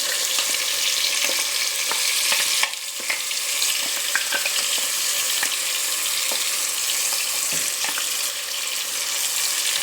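Mustard seeds are tempering in hot oil for a fish curry, giving a steady loud sizzle and frying hiss with scattered small pops and crackles across the whole stretch, with no talk.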